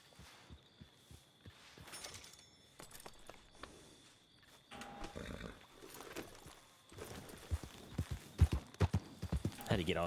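Horse hooves clip-clop in a steady walking rhythm across a video game landscape, close and distinct, with someone talking over parts of it and a background hum underneath.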